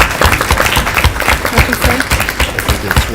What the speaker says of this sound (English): And yeah, you can applaud for that.